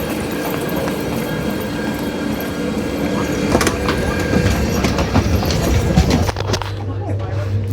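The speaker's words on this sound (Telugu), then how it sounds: "సో ఫైనల్ గా ట్రైన్ అయితే ఎక్కేసాము" A train rumbles along the rails with a steady rhythmic clatter and occasional clanks, loud and close, with voices mixed in, heard from aboard a passenger train.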